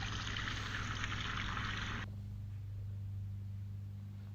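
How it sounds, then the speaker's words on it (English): Pre-soak water pours from a film developing tube in a dense, steady gush for about two seconds, then cuts off abruptly, leaving a low hum and faint trickle. "So we're going to empty out our pre-soak water."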